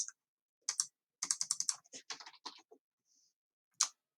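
Bursts of quick keystrokes on a computer keyboard, close and clear, separated by short pauses and ending with a single louder tap.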